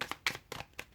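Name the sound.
shuffling tarot cards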